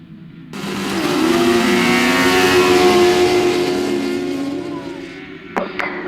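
Grasstrack race engines rev together at the start of a race, a loud, building and sustained engine roar that gradually fades as the field pulls away, with a sharp clatter near the end.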